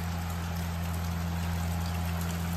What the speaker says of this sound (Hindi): अब यहाँ पे दोबारा होने लगी बारिश